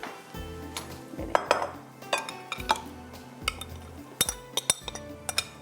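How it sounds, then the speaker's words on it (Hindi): Fish pieces are tipped into a big bowl for marinating, giving a run of clinks, clatters and scrapes of dishware and cutlery, close by and irregular, with no talking. "तो फ़िलहाल मैं इसको एक बड़े बॉल के अंदर डालती हूँ ताकि ये अच्छी तरह से ये जो है हमारी फ़िश जो है वो मैरिनेट हो जाए"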